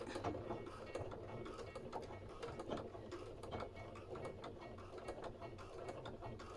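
Sewing machine topstitching a fabric headphone cover, a quiet, continuous rapid mechanical clatter of the needle mechanism running steadily without pause.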